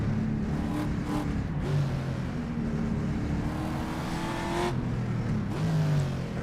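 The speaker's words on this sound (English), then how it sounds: "You can hear a car in front" A 1960s race car engine revs and shifts in rFactor on the Targa Florio road course through tight hairpins, rising and falling pitch sweeps with gear changes, loud and close, with no voices.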